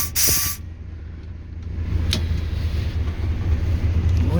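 A TU6A narrow-gauge diesel locomotive in second gear on a winter run: a brief hiss of air, then a low steady engine rumble that builds and holds, loud and close, with no speech.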